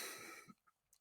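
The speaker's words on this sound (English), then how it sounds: "I think we should probably cough some at the microphone." A single close, loud cough into a microphone during a podcast, a harsh burst that quickly fades, followed by faint breathy sounds.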